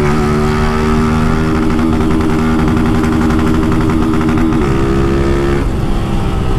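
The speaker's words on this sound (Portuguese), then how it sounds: "É desse jeitão que amacia a moto." A motorcycle engine runs loud and close, revving steadily with a rough, buzzing drone that shifts pitch slightly a couple of times.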